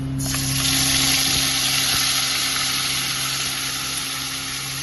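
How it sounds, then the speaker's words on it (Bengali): Ginger-cumin paste frying in oil with bay leaves and dried chilli, a loud, steady, close sizzle that holds evenly throughout. "আদা জিরে বাটা দিয়ে দিচ্ছি"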